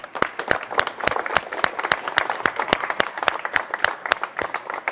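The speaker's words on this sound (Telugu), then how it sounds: "బట్ ప్రస్తుతానికి మనం చప్పట్లు కొడదాం" Audience applause at a gathering honouring children, a steady run of sharp, evenly spaced claps close to the microphone lasting throughout, loud and without talk.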